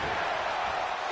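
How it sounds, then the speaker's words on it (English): Crowd cheering in the WWE 2K25 wrestling video game during a match, a steady dense roar of arena noise that holds loud and even throughout the short moment. "The crowd are cheering for CM Punk."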